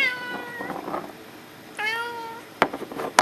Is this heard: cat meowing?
yes